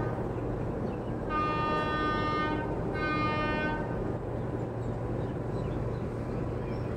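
The Kanchankanya Express, a Sealdah to Alipurduar train, sounds two long horn blasts over a steady loud rumble of the idling train and station, the second blast following shortly after the first.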